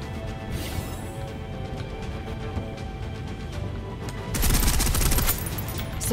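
Gunfire in the shooter Snowbreak: rapid dense bursts of shots rattle over steady game ambience, swelling into a louder, heavier volley of fire near the end.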